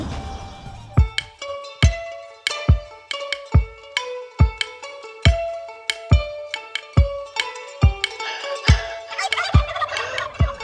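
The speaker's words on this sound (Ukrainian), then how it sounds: "індиків, диви, як ходять близько біля наших трейлерів, бачиш?" Turkeys gobble repeatedly near parked trailers in Albania, a series of sharp, rattling calls spaced about every second, growing busier toward the end.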